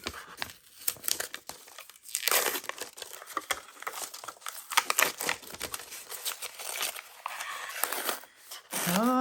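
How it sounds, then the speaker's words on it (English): Plastic wrap crinkles and tears in irregular bursts as a frosted Libby glass cup is unwrapped after heat pressing in a tumbler press, close and fairly quiet, with a brief voice near the end. "let's get this unwrapped and see what it looks like"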